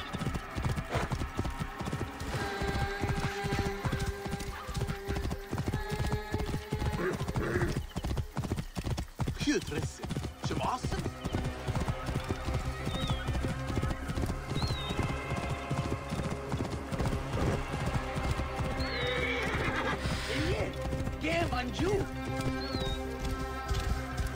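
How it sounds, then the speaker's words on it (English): Steady clip-clop of horse hooves trotting throughout, with occasional whinnies and neighs over a dense Assassin's Creed Origins game soundscape, voices faintly mixed in. "This must be Meret's horse"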